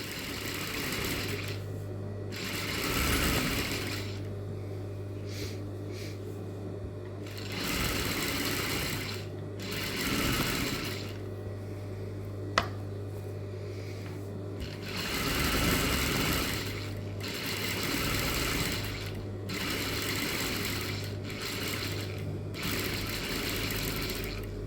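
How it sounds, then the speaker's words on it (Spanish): A sewing machine stitches the side seams and topstitching of a school-uniform skirt close to the waistband edge, running in loud steady bursts with brief pauses between them, alone without talk. "Lo que voy a hacer ahora es coser a los costados y hacer el pespunte del lado de arriba."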